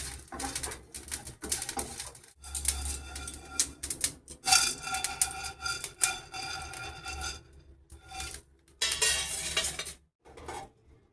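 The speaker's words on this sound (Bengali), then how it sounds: "শুকনো খোলায় ভেজে নিচ্ছি জিরে, গোলমরিচ আর তেজপাতা।" Cumin seeds, black peppercorns and bay leaves dry-roasting in a bare pan, heard as irregular scraping and clinking of a utensil against metal with dry rattling of spices, in bursts with short pauses, no talk.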